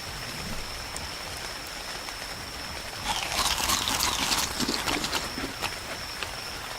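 Steady rain in the video game Ark, a constant hiss of drops that swells for a few seconds in the middle with crackly patter, with no voices.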